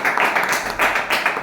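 An audience claps together at an informal gathering, a short burst of dense, fairly loud clapping with slight pulses and no one talking over it.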